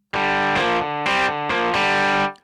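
Distorted drive tone from a Ketron Event keyboard with reverb switched off, a run of sustained, buzzy, harmonically rich chords changing every half second or so, loud and close, ending with a quick decay.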